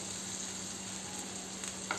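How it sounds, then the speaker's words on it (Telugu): Sliced onions frying in a pan for a home-style mushroom curry, giving a steady, soft, even sizzle throughout with no voices. "ఉల్లిపాయలు వేగినీళ్ళు చూద్దాం. కొద్దిగా వేగినవి."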